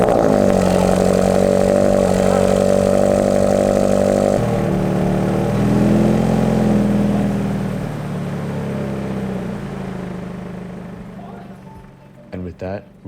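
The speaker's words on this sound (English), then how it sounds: "And with that, we're finished installing the new exhaust system. Now it's time for a sound test." Toyota GR86 with a newly installed aftermarket exhaust, its engine revving loudly and steadily at close range, then settling toward idle with a few short blips near the end.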